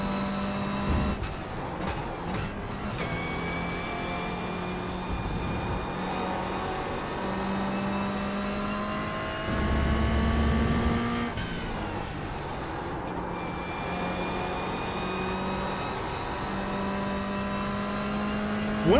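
A simulated race car engine in an iRacing or Le Mans Ultimate sim racing game revs and shifts through gears, its whining note climbing and dropping repeatedly, steady and fairly faint without talk.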